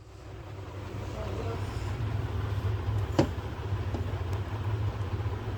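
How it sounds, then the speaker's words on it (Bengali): A mixer grinder blends mango, milk and cardamom into a paste, its motor giving a steady, loud whirring drone with a constant low hum that runs unbroken through the whole stretch. "mixer grinder"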